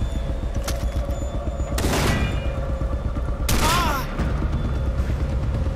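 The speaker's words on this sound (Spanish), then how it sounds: "Me están disparando a través de la pared." Gunfire in the video game Far Cry 3 comes through a wall in a few loud, harsh bursts, with one short crack followed by two longer volleys over a constant dense rumble of in-game noise.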